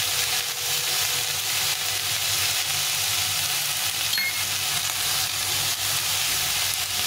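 Spices fry in a pan for a vegetable and greens dal, giving a steady, fairly loud hiss and crackle throughout with faint stirring and no voices.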